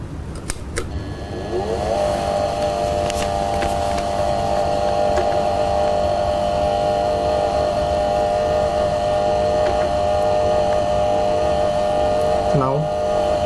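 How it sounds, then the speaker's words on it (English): A shear box test machine runs with a steady electric motor hum and buzzing tonal drone that starts after a few clicks and continues evenly throughout, with a brief pitch sweep near the end. "you just make sure the power is on and switch on the machine"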